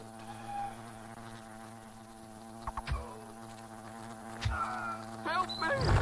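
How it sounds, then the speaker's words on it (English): Large wasps buzzing in the video game Fable The Lost Chapters, a steady droning hum with a few sharper knocks and a louder burst near the end. "That's some big wasps."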